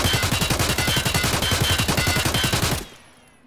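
Rapid automatic gunfire in Escape From Tarkov, a steady burst of evenly spaced loud shots lasting nearly three seconds before cutting off to near silence.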